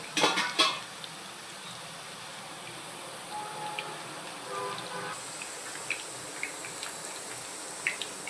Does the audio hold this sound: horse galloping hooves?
no